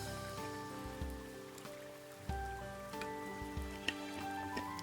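Steady rain falls in the Harvestella video game, a soft continuous patter set against sustained tonal music with gentle swells, quiet and even, with no voices.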